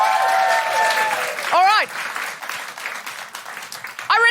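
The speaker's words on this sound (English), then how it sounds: "Big round of applause for Susan." A comedy show audience applauds for 4 seconds, a steady burst of clapping at close range, with a voice speaking briefly over it.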